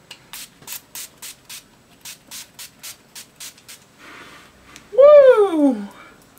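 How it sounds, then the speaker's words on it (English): Urban Decay De-Slick makeup setting spray fires in a rapid series of about a dozen short, crisp, close pumps in quick rhythm, then a softer hiss, followed by a voice exclaiming. "the spray I have is the Urban Decay De-Slick makeup setting spray"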